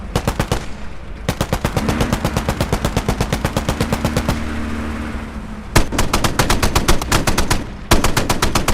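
A .50 calibre machine gun fires in the tank game Call to Arms: Panzer Elite, loud and close in long rapid bursts with brief pauses between them.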